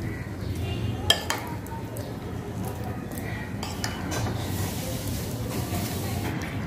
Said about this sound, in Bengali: এখন আমি জেলিগুলো ফালুদা মিক্সারের সাথে ভালো করে মিশিয়ে